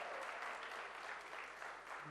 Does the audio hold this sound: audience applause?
yes